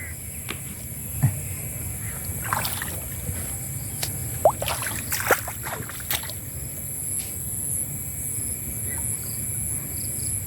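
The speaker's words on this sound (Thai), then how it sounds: "น้ำไหลครับพี่น้องน้ำไหล" Water flows back through a pipe at a homemade fish-trap setup, a steady rushing wash with a few splashy clicks and knocks over faint insect chirping, close and fairly even throughout.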